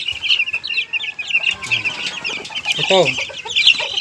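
Young Sebright and Texas chickens about a month old cluck and peep in a busy backyard flock. Their calls are close and continuous, and someone briefly speaks over them.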